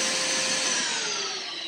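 A shop vac vacuum cleaner runs near a workbench with a steady, loud, close whine that dips slightly in pitch toward the end.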